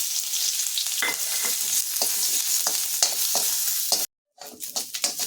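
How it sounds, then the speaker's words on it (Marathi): Chopped onion frying in about half a spoon of oil in a pan, made for a spicy raw tomato thecha, sizzles steadily with occasional stirring scrapes, close and fairly loud, with a brief gap near the end. "पुन्हा थोडंसं अर्धा चमचा तेल घालून कांदा परतून घ्यायचा आहे"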